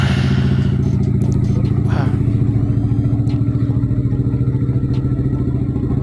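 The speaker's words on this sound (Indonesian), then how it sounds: "Kita nyalain motornya." A motorcycle engine starts and idles with a steady low rumble and mechanical clatter, close by and loud throughout, during a night ride in Makassar.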